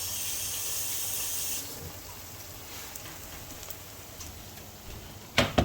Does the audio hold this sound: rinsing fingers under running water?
yes